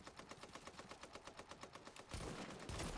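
Rapid automatic gunfire from an enemy in The Division on Xbox One, a steady rhythm of about twenty close shots over two seconds, then a louder, denser burst of impacts and noise.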